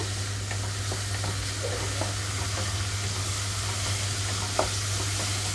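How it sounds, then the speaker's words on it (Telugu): Boiled vegetables stir-fried in a pan on high flame for sauce-free vegetable fried rice: a constant sizzle with a low steady hum beneath and scattered soft scrapes and clicks, no talking. "ఇప్పుడు ఇందులోకి ఉడికించి పెట్టుకున్న వెజిటబుల్స్ వేస్తున్నాను హై ఫ్లేమ్లోనే ఉంచి వేయించుకుంటున్నానండి"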